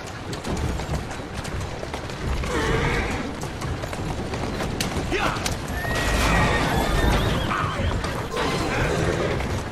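A horse-drawn carriage in the video game Assassin's Creed Syndicate rolls steadily with clip-clopping hooves and loud whinnying horses over a dense rumbling bed, with voices talking over it.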